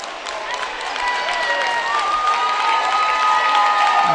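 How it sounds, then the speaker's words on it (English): A crowd in a high school boys basketball gym breaks into applause, with clapping, cheering and some scattered shouts building and holding at a steady moderate level. "that's going to draw an applause"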